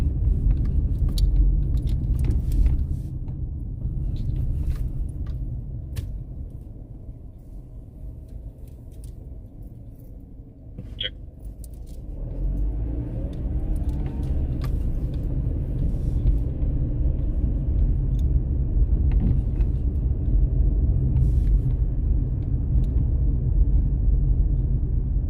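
A car cruises slowly through a residential Sacramento neighborhood, heard from inside the cabin: a steady low engine and road rumble that dips briefly midway, then resumes evenly, with no talking.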